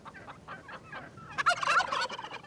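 A wild turkey gobbles in a rapid rattling series of calls, fairly faint at first and then louder and denser near the end, with no voices.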